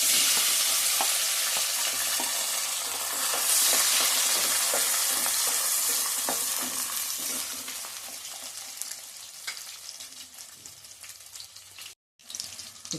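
Onions sizzle loudly and steadily in hot oil as the tempering for kovvu rasam is prepared, a dense crackling that thins slightly toward the end, with one brief dropout.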